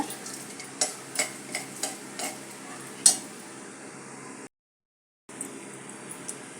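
Tempering spices fry in oil for a vadiyalu curry, a soft crackling sizzle under rhythmic ladle taps and stirs against the pan, with a brief silent break partway through.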